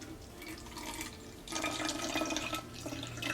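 A homemade aloe vera and rosewater hair mix is poured into a container, a steady soft trickle of liquid that swells louder halfway through, with no talking.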